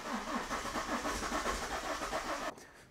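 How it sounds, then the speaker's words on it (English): A BMW E61 engine cranks over and tries to start, a loud, steady churning rumble with rapid pulsing that runs continuously for about two and a half seconds, then cuts off abruptly into quieter background. "So now it's at least cranking and wanting to start."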